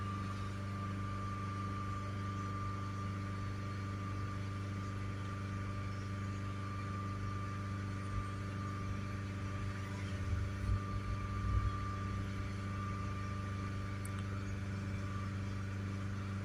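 A diesel engine held steady at 3000 RPM during a DPF soot check, a constant low humming drone with a faint tonal whine, quiet and even with brief thumps near the end.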